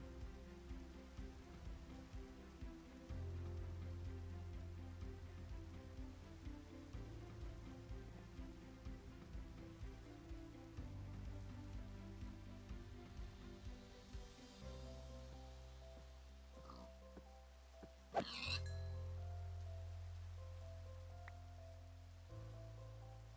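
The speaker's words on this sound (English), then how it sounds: "Raining, still raining, can't sleep." Steady rain falls through the night, a continuous soft patter with no voices, under a layer of sustained musical tones and one brief sharp accent near the end.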